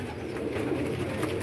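Striped pigeons cooing in a steady low murmur, several birds close together, with a continuous rough bed of background noise and no talking.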